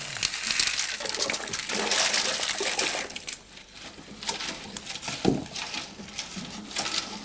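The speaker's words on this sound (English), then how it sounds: "we're going to add the quicklime to the water" Quicklime tipped into a container of water and stirred, giving a continuous wet sloshing and pattering that swells and fades, with a sharper splash near the end, close by.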